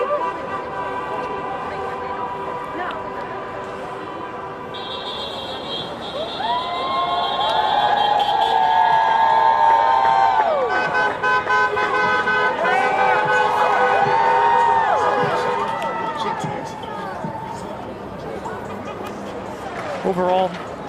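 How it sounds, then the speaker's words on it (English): A George Floyd protest crowd in Freehold chants steadily on a street, with voices swelling in the middle and cars passing nearby; someone talks over the scene throughout. "You can hear the chants, you can see the signs, you can hear the cars passing by."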